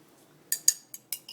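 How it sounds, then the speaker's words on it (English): A stirring rod clinks against a glass beaker as water is stirred to dissolve an ionic compound for a standard solution: five crisp, sharp taps in quick succession, close and clear against a quiet background. "So you just stir until all the crystals are gone."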